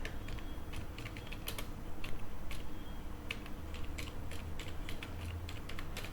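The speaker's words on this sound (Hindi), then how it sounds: "तो एक्स्ट्रा क्वालिफिकेशन हम यहाँ पे टाइप करते हैं" Steady computer keyboard typing in Microsoft Word, a continuous run of close, crisp key clicks with irregular rhythm over low room hum, no voices.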